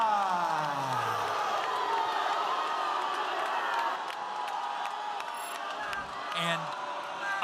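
Large arena crowd at a fight reacting to a split decision win for Nikola Kacperska, a sustained roar of booing and shouting from many people, loud and continuous, with an amplified voice briefly at the start and near the end.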